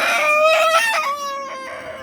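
A nine-month-old adult Fayoumi rooster crows loudly and close, one long harmonic cock-a-doodle-doo with a drawn-out falling end, heard alone without talk.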